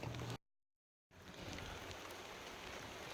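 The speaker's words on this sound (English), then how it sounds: "It is raining a little bit" Light rain falls outdoors during a 2006 Dodge Grand Caravan SXT intake installation, a steady soft broadband patter that breaks off into near silence for a moment, then resumes and holds at an even, quiet level.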